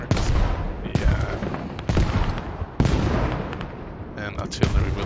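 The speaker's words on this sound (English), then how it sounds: "Some nice mortars here from the Guys" Mortar rounds thud and boom in a Squad-style video game battle, several heavy impacts landing about a second apart over continuous rumbling gunfire, loud and close.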